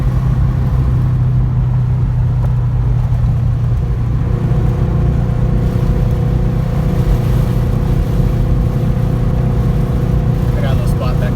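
A 400hp 2005 Subaru STI with a Garrett GT3071R turbo in the stock location makes a loud, heavy in-cabin engine drone that holds steadily, with the pitch shifting partway through.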